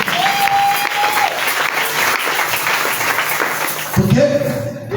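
A church congregation applauds in loud, sustained clapping that fills the room throughout, with a short musical tone and some voices mixed in.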